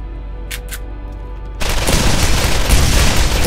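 Gunfire from a machine gun in the video game Borderlands: after a brief quiet with a few clicks, a dense, loud stream of rapid shots and booming impacts erupts and continues without pause.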